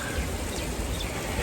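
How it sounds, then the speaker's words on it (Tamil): Rain falling steadily outdoors during a fishing trip, a dense continuous patter of drops with no talking. "மழை மறுபடியும் மழை வந்துருச்சுங்க."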